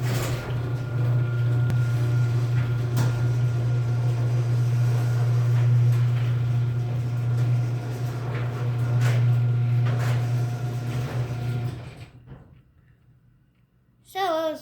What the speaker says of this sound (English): Today I'm going to show you my Chamberlain PD210 garage door opener.